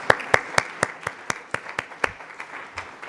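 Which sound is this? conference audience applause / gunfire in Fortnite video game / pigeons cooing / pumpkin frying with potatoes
conference audience applause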